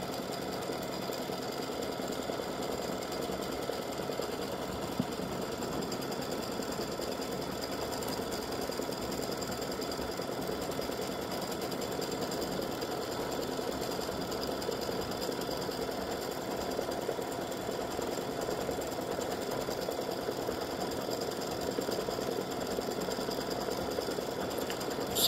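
An embroidery machine stitches free-standing lace foundation stitches over two layers of wash-away stabilizer, a steady, even mechanical whir and rapid needle chatter that holds one level throughout, with no voices.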